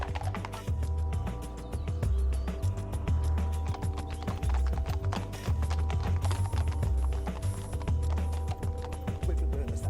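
Horse hooves clip-clop in a steady, rapid rhythm as horse-drawn transport travels along a road, with wooden creaks and rattles mixed in and no voices.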